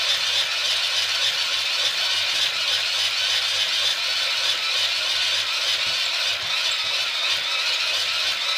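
Hand-cranking a SteriPEN Sidewinder UV water purifier: a steady, continuous whirring and rattling grind from the crank mechanism, loud and close, running unbroken throughout with no talking.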